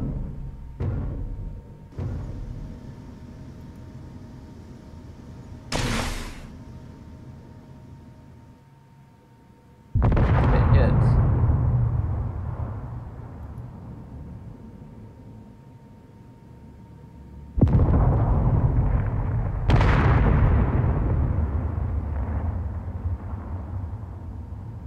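Turrets firing and explosions in the game Space Engineers, around an MA gimbal laser turret: sharp bangs and loud bursts with long roaring decays recur every few seconds over a steady noisy rumble.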